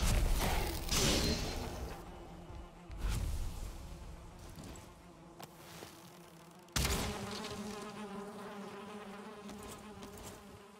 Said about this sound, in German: hier ist noch eine Biene, ich höre sie